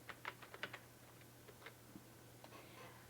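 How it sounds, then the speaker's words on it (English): Quick keystrokes on a computer keyboard, a short burst of light clicks followed by a few scattered taps, faint and close over a steady low hum. "Let me type that there."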